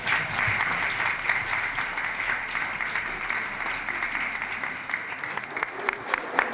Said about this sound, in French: Moi, je vous propose de l'applaudir.